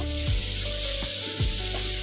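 Beans and potatoes fry in a pan with a steady, close sizzle, broken by a few soft scraping stirs.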